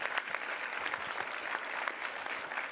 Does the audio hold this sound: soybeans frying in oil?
no